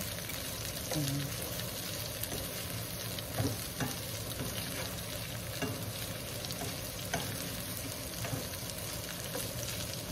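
Meat for Bicol express sautéing in a pan, a steady close sizzle and frying hiss running throughout with occasional faint stirring scrapes.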